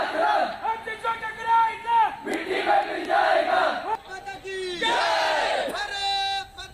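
Military school students shout rousing slogans in unison for Indian soldiers, standing on a tank; loud, close group chants come in repeated bursts with brief pauses between.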